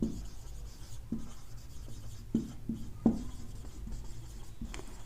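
Chalk scratching across a board as a maths teacher writes an algebra lesson, producing short rubbing strokes with occasional sharper taps, close and fairly quiet over faint room tone, with no talk.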